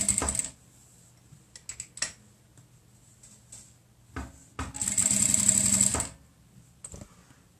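A sewing machine stitching two pieces of green patchwork fabric together along the edge for a tissue holder, with short bursts of rapid, buzzing stitching, then a longer steady run near the end, close and clear with no talking.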